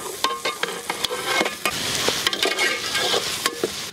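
Mutton curry being stirred and fried in a pan: a ladle scrapes repeatedly in irregular bursts over a steady, close sizzle, with no voices.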